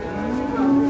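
A large cow being unloaded from a truck gives a long, low moo over a busy outdoor background of rumbling and murmuring.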